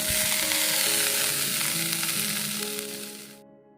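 Neem flowers dropped into hot oil, a bright, dense sizzle of frying that stays loud and close before cutting off abruptly near the end, with no voices.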